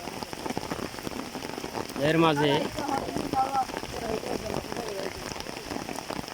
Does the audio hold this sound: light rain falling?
yes